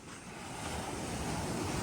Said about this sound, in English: Came down to the ocean.